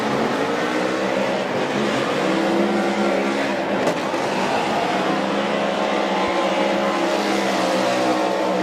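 Ford Performance Mustang RTR Spec 5D drift car at a Formula Drift Pro Championship event at Lake Erie Speedway, its engine roaring loud and steady throughout with a dense, sustained rasp and shifting pitch.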